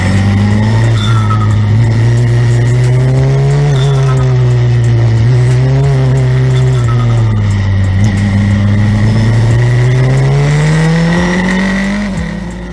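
An F4 race car at the launch of a night street race in Chennai, India, screams loudly and continuously as its engine climbs and shifts, rising and dipping pitch dominating, with faint crowd and other cars beneath.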